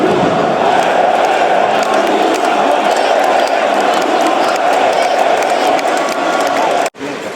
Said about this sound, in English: everybody in the crowd screams